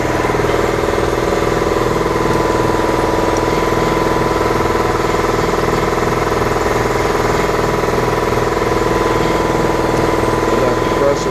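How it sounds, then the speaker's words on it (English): A shop air compressor runs steadily as it fills its tank, a loud constant mechanical hum and vibration with no change in pitch across the stretch. "Let that compressor fill up."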